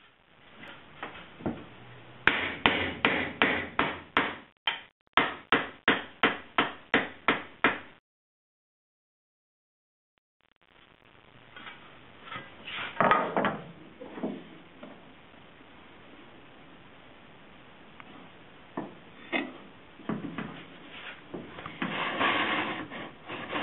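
A series of sharp metallic hammer blows shaping a 1965 Ford Mustang quarter panel extension, a quick burst of evenly spaced strikes, a pause, then scraping and working sounds, close and fairly loud.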